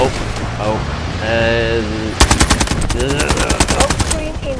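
Rapid automatic gunfire from a weapon in the video game Delta Force bursts out in a loud, fast string of shots in the second half, following a voice speaking.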